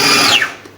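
A food processor grinding ham and cheese filling, a loud high whirring motor whine that sweeps downward and cuts off, fading to quiet within a second.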